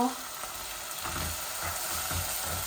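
Prawns fry in a hot pan with oil for a pumpkin prawn curry, giving a steady, close, continuous sizzle and crackle with faint stirring and no talk.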